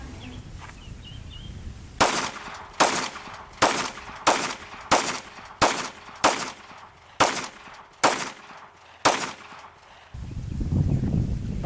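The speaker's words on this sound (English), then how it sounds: "let's get out to the range, and we're going to shoot a little bit" A Glock 30 subcompact pistol fires at an outdoor range, about ten sharp, loud shots in a steady, evenly spaced string, each with a short ringing decay, then quiet background.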